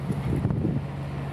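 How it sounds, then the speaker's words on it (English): Wind gusting on a cold beach, a steady low rumble of buffeting against the microphone with faint rustle, continuous and fairly loud throughout. "It's a pretty windy day,"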